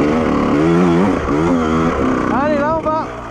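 A 2001 Honda 125 CR two-stroke motocross bike engine revs up and down, loud and close, with rising and falling pitch sweeps.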